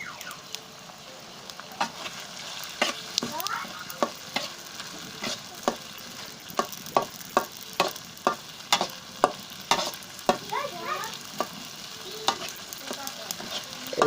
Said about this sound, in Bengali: এরপরে আমরা নোনা ইলিশগুলো আস্তে আস্তে দিতে থাকবো